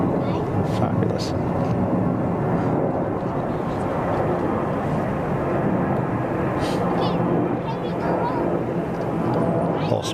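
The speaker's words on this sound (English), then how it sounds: "Taxiing to gate." An airliner taxiing at Zurich Kloten Airport, a loud, steady engine rumble and whine that stays constant, with people talking over it.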